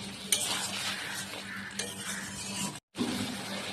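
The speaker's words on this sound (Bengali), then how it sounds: "এবার ডিমগুলো দিয়ে একটু কষাবো" Eggs are being stirred into a soybean curry in a pan, making a moderate sizzle broken by scraping and clinking of a utensil against metal. There is a short silent break before the frying noise returns.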